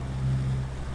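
Sailboat diesel engine motoring at sea at a steady 2100 RPM, a continuous low droning hum with faint rushing wash over it, close and even throughout the short stretch, no voices.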